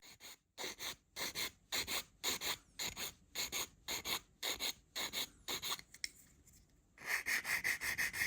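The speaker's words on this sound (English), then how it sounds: "The two-part bucket seats can be glued together and the mold line sanded smooth." Rhythmic back-and-forth sanding of a plastic mold line on two-part bucket seats from a Revell Pontiac Fiero GT model kit, about a dozen close, regular rasping strokes followed by a brief pause and a longer scrubbing run.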